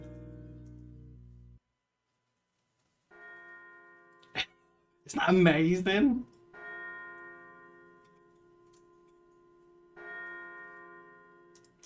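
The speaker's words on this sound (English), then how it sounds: "Listen to this bell." A church bell sample in a music track rings in several long, sustained strikes separated by short gaps, its tones fading slowly; partway through, a person briefly speaks an excited remark over a sudden burst of sound.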